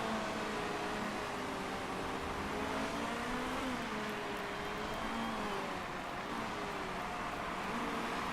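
A racing car engine drones steadily in the Motorsport Manager game at the Munich track, a continuous mid-distance hum with slowly shifting pitch and no talk.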